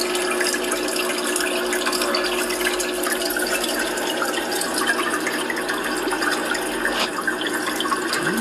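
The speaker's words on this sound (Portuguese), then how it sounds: "Eu vi que faz uma aeração assim muito forte, né?" Strong aeration bubbles hard in a homemade freshwater aquarium skimmer, giving a dense, steady rush of churning water and fizzing bubbles, close and continuous throughout with no talking.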